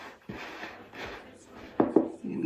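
Boiling water and flour are mixed and folded with a wooden spoon into a rough dough, giving soft, close, irregular thuds and scraping strokes against the bowl, with a couple of sharper knocks near the end.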